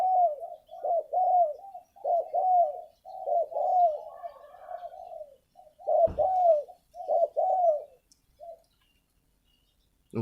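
Repeated soft, rhythmic spotted dove coos in short phrases, fairly close, with a brief pause between groups and a quiet end.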